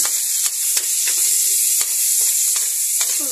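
Chopped onions sizzle steadily in hot oil in a pan while bagoong with kamias is cooked, a continuous close frying hiss broken by several sharp clicks and stirring scrapes.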